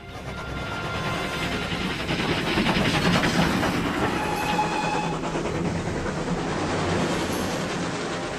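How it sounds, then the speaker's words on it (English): A train rolls steadily along the rails with a continuous rumble and rhythmic clatter of wheels, heard from on board at moderate loudness, with faint brief squeals and no talking. "Have the conductor stop the train just ahead. This is as far as we can travel by train."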